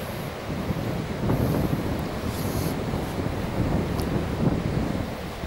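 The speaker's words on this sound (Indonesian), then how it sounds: "Jadi ini adalah pantai Krakal" Waves and wind at Krakal beach in Gunung Kidul make a steady, dense roar of surf with gusty wind buffeting the microphone and no voices.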